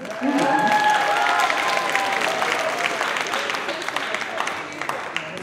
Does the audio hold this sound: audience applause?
yes